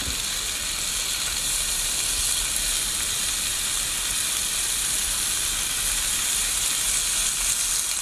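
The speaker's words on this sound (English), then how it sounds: "listen to that sizzle" Homemade bacon, cured in maple syrup, sugar and pepper and smoked over apple wood, sizzles loudly and steadily while frying at an outdoor campsite, a constant bright hiss with no talk.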